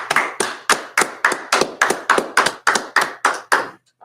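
A single person claps thirteen times in a steady, fairly quick rhythm, each clap sharp and close, with a brief pause near the end before one last clap. No other sound is present.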